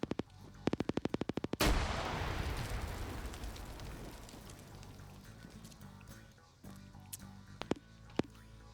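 Rapid burst of automatic machine gun fire in an online multiplayer first-person shooter match, a quick rattling string of shots up front followed by a loud blast and a lingering rumble, with scattered sharper shots later.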